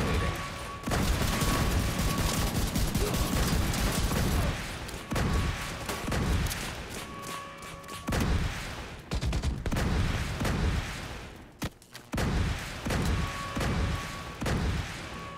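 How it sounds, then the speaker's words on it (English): Missile turrets firing in an online shooter, a dense fusillade of rapid booming blasts that fills the clip in long sustained bursts with brief gaps, loud and close. "missile turrets activating"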